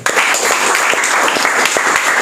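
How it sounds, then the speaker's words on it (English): Students clap for themselves during a classroom English lecture, a loud, close burst of group clapping with a few sharper individual claps standing out from the continuous patter. "Clap for yourself."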